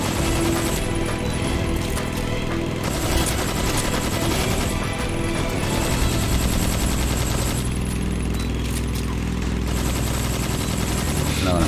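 Sustained gunfire in the video game Metal Gear Solid, a steady, loud automatic stream of shots running almost unbroken throughout, with game background noise beneath.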